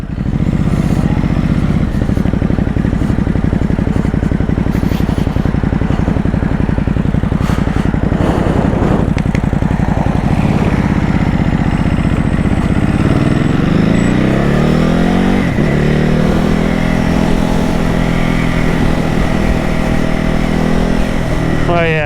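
A 2021 Ducati Hypermotard 950 SP motorcycle ridden in sport mode, its engine loud and close throughout, revving and pulling through rising gear changes.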